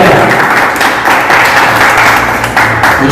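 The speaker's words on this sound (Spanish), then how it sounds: "Recibamos con un fuerte aplauso al compañero Jesús Concha Zabaleta." A loud, full burst of audience applause welcoming a speaker to a political school lecture, dense clapping sustained evenly across the moment with no voices over it.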